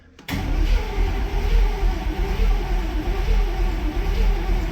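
A barn-find Cadillac with weak compression suddenly catches after a quiet moment and its engine runs on in a steady, loud, close-up rumble with slight uneven pulsing.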